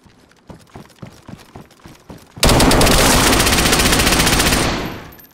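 A loud, sustained burst of automatic AK rifle fire in DayZ bursts in mid-clip after a run of sparse, scattered shots, rattling rapidly for about two seconds before tapering off.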